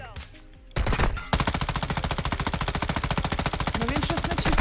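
Gunfire in Call of Duty Modern Warfare II Warzone DMZ: after a brief burst, a loud, rapid automatic weapon fires a long, sustained string of evenly spaced shots, close and dominant.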